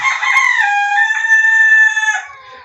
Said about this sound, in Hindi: मुर्गा देखें।